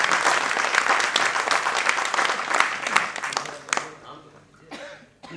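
Theatre audience applause at a Hindi play performance, a thick burst of clapping with coughs mixed in that tapers off near the end.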